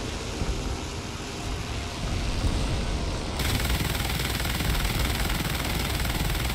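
Sustained machine gun fire from a bomber's guns in the War Thunder video game, a dense continuous rattle that grows louder and harsher about halfway through, with engine drone underneath.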